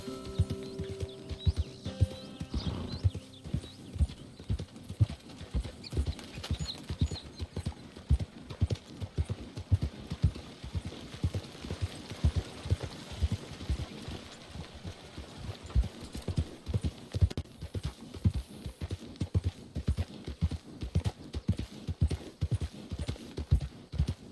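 Steady clip-clop of horse hooves from riding in the Red Dead Redemption 2 video game, a continuous rhythmic trot lasting throughout, close and clear, without talk.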